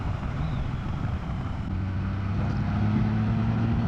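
A heavy 900-pound motorcycle on fresh tires leaning through a curve on a Bullpasture Mountain road, its engine a steady low drone that rises slightly in pitch and loudness, with wind rushing over the microphone throughout.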